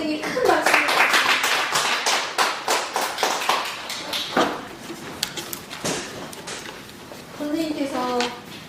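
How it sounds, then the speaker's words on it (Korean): Applause follows the end of a lecture on Cheondogyo and the March 1st Independence Movement, a burst of clapping that tapers off in uneven claps, with voices speaking over it. "선생님 큰 박수"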